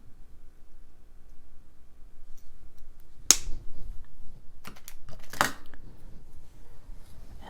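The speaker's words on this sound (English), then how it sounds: "I'll snip off the unneeded portion" Wire cutters snip a jewelry head pin with a sharp, crisp click. A second faint snap follows over quiet handling noise and tiny clicks from the wire and tools.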